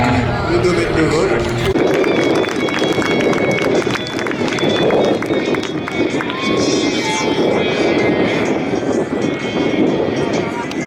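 A propeller airplane performs at the Meaux airshow in 2022, its engine droning steadily and loudly throughout, with a French commentator talking over it.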